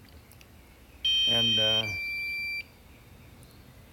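A low-battery alarm sounds as a loud electronic beep, a steady tone that drops to a second pitch midway, about one and a half seconds long, against a quiet background.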